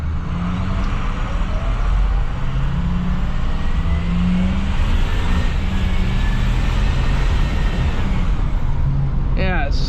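A Ford F-350 pickup with a turbo diesel engine accelerates hard, producing a loud, continuous close-up roar that holds for the whole stretch under some talking.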